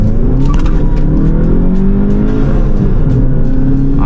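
A Volkswagen GTI fitted with an Integrated Engineering intake and a Stage 1 tune pulls hard in boost. Its engine drones loudly and steadily, with harmonics that rise and fall slightly over a few seconds, and no one speaks.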